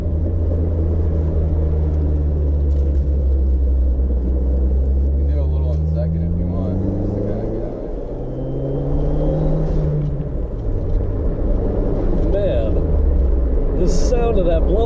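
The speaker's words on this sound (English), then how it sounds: "Sound of that blow-off valve." Dodge SRT-4 turbocharged car heard close by with a deep, droning exhaust rumble that rises and falls as the revs change, ending in a brief sharp hiss like a blow-off valve release.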